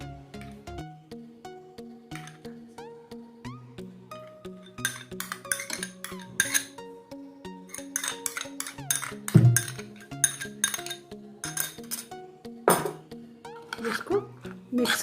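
A chaat papdi mixture stirred in a bowl with a spoon, giving repeated clinks and scrapes against the dish over a steady background of music.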